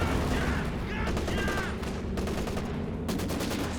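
Dense, continuous automatic fire from machine guns in a Company of Heroes 2 battle, sustained bursts filling the whole stretch with a constant roar of overlapping shots and no pauses.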